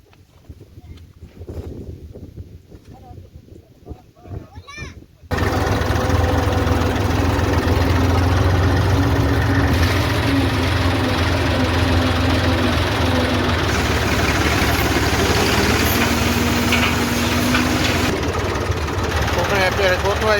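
A tractor engine runs steadily and loudly on a coriander farm, with a constant low rumble starting abruptly after a quieter opening stretch where voices and background sounds are heard.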